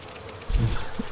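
Bees buzz as a weapon effect in the video game Dragon Age: Inquisition, a brief loud swarm burst that rises suddenly midway and then quickly fades.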